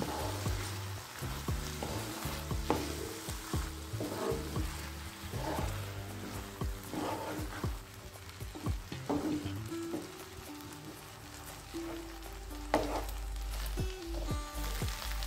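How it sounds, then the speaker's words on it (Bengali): Soaked rice being stirred into spice paste in a pan, soft crackling sizzle under repeated scraping and clattering stirs in an uneven rhythm, close and moderately quiet, with a low rumble swelling toward the end. "এবার রাইসটা দিয়ে মশলাটার সঙ্গে ভালো করে মিশিয়ে দিচ্ছি।"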